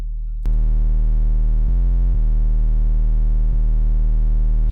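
A distorted 808 bass note for a beat drones as a steady, loud low tone rich in stacked harmonics, held for several seconds with brief pitch shifts.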